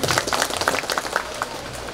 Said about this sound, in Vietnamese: Xin một tràng pháo tay ạ.